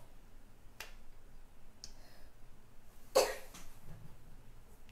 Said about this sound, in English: I ain't like that cough.